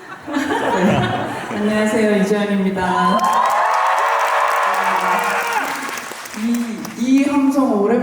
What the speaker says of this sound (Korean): 이 함성 오랜만에 듣는 것 같아요.